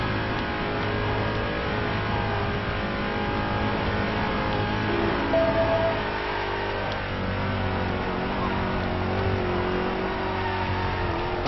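A rally car engine in the Driver San Francisco video game, a steady droning hum that holds an even pitch throughout, moderately loud and alone.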